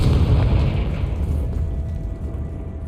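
Confringo fire-blast spell exploding in Hogwarts Legacy, a heavy rumbling boom that hits loud at the start and rolls away over a few seconds with no voices.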